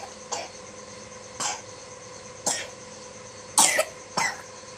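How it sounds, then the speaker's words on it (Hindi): A sick young girl coughs five times in short separate bursts spaced about a second apart, close and clear over a quiet steady hum. "देखिए आवाज़ आ रही होगी खांसने की, बहुत ज़्यादा उसको खांसी चल रही है"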